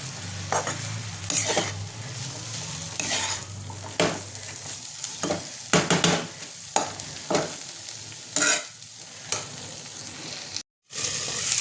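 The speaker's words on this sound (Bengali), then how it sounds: "সজনে ডাঁটাটা দিয়ে আমি একটু করে 5 মিনিট নাড়বো, একটু সজনে ডাঁটাটা দিয়ে একটু কষিয়ে নেব হালকা।" Drumstick pieces being stirred and fried in a pan for a Bengali-style drumstick curry: a steady close sizzle with repeated scraping stir strokes, a brief gap near the end.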